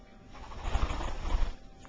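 Red-bellied or Meyer's parrot giving soft, low cooing calls indoors, a couple of gentle pulses in the middle of the clip, fairly quiet and close with no talking.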